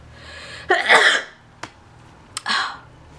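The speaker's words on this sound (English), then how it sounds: "I have to sneeze" A sharp burst of a sneeze, followed by a small click and a second shorter breathy burst, in an otherwise quiet space.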